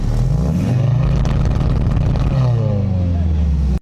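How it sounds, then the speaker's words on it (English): A Mercedes-AMG C63 S E Performance engine revs loudly and close, with burbles, pops and bangs between gear shifts. "the pops, the burbles, the bangs, the actual shifting of the gears, like, it just sounds so well tuned"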